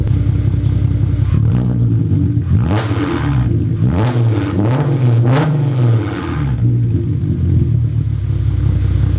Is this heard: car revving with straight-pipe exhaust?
yes